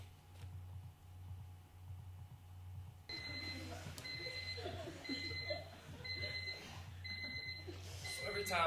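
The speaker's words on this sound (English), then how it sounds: "So every time my alarm goes off," After a quiet start, an alarm clock begins beeping in quick repeating bursts and keeps going, over a low background murmur.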